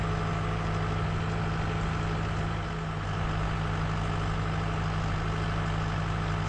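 A farm tractor engine idles steadily at close range, a low, even mechanical hum with a constant tone that holds for several seconds, no voices over it.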